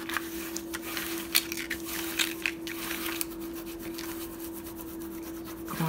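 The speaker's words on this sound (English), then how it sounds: "I'm going to rub it from this side." Paper glued down along the spine of a blue plaid 6x9 junk journal is rubbed by hand, giving soft, close, irregular rasping strokes over a steady low electrical hum, with no talking.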